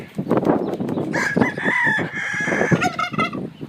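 A rooster among hens and other farm fowl at an antique store crows once loudly and close, a long drawn-out call rising over busy clucking and chatter from nearby birds.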